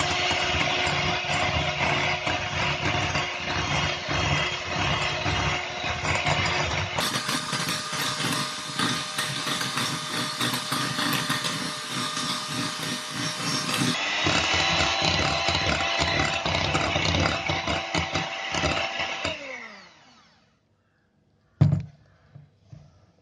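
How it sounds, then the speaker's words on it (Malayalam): Instant coffee, sugar and water beaten into cream, with a continuous motorised whir that shifts speed twice and runs for about twenty seconds before cutting off, followed by a single clunk. "നമുക്കിത് നന്നായിട്ടൊന്ന് ബീറ്റ് ചെയ്തെടുക്കാം."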